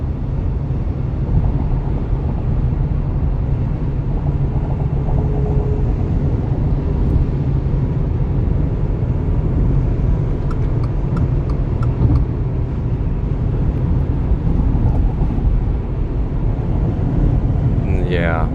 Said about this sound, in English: this is normal driving, road noise with the stock Yokohama Geolanders